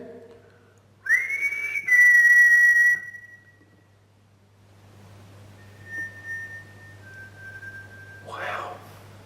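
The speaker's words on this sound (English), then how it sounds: "I just heard a whistle" A short, clear whistled tone rises and holds inside the former HMP Shrewsbury prison, followed by softer steady whistles later, with faint breathy noise near the end.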